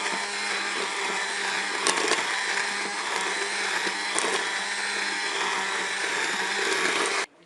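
A Cookeo blends peach and orange jam in one loud, continuous whirring drone lasting several seconds and then stopping abruptly, with no speech.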